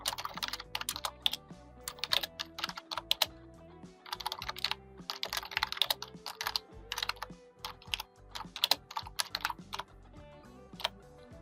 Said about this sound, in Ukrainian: Введіть текст листа